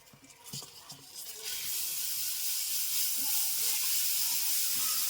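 Chopped tomatoes hit hot ghee in a pan and burst into a loud, steady sizzle that holds for several seconds after a few soft clatters at the start. The sound is close, with no talking.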